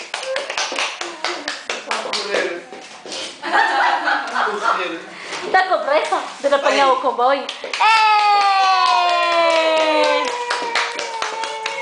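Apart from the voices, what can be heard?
child clapping hands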